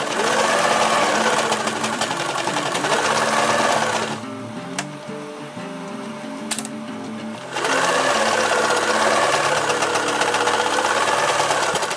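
A sewing machine runs zigzag stitches across webbing on an EDC organizer. Its rapid mechanical whir comes in two loud bursts with a quieter pause of clicks and handling between them, and there is no talk.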